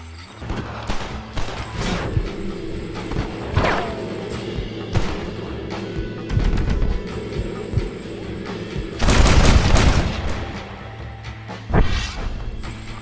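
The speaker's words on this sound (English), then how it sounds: "Follow me, we'll shoot our way in there." Gunfight in the video game Red Dead Redemption, a Wild West battle with repeated loud gunshots and booming blasts in dense bursts, including a heavy crashing barrage near the end, close and continuous.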